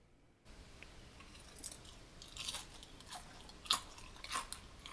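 Biting into a Flamin' Hot Cheeto crusted chicken drumstick, baked and garnished with scallion, gives several quiet, close crunches spaced across a few seconds over a faint background hiss.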